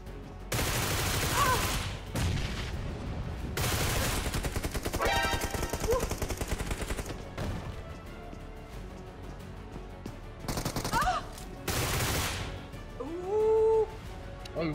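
Gunfire in a shooter video game with a Kar98 rifle: loud bursts of shots and rapid firing come repeatedly through the scene, with game effects around them.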